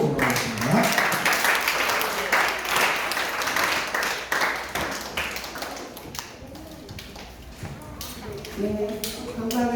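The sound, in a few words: children's congregation applauding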